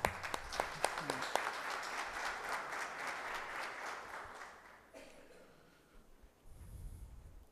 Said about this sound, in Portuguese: professor Alberto, gostaria que essa casa desse uma salva de palmas por todas essas participações sua no município de Anchieta